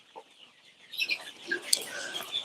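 Egyptian Fayoumi chickens on a poultry farm cluck and squawk in short, scattered bursts, quiet at first and then busier, with a few sharper calls standing out near the end.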